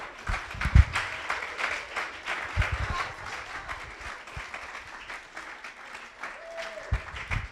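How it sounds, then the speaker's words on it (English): A crowd claps and cheers steadily for several seconds, dense and lively applause filling the room with a few louder thumps. "Round of applause for Carl."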